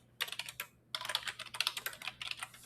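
Keys clatter on a computer keyboard as order details are entered into a small-business spreadsheet: two bursts of brisk, close typing separated by a short pause, with no talking.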